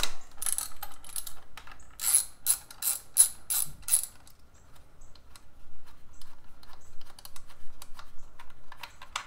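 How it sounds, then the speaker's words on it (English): Small metallic clicks and rattles of long bolts being loosened and removed from the air filter clamp on a stock Harley-Davidson filter, quick close ticking bursts followed by quieter scattered taps. "remove the three bolts that hold the clamp on"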